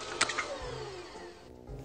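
A quiet, steady blender motor whirs and grinds continuously while mincing meat, with a few faint clicks near the start.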